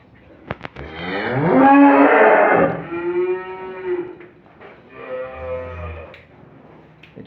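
Dairy cows, including Jersey milk cows at a sale, give a long, loud, close moo followed by two softer, lower lowing calls, with no people talking.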